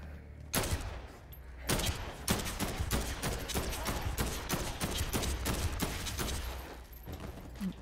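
Rifle fire in the zombie video game Dead Island 2 comes as a long string of sharp, loud shots in quick succession with brief pauses, sometimes close to a rapid fusillade.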